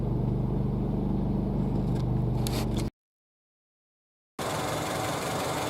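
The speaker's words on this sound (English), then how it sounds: "Pretty big vibration." A Honda Civic engine with a bad engine mount and the exhaust resting on the frame, heard from underneath as a loud, close, steady rumbling vibration that cuts out briefly before resuming.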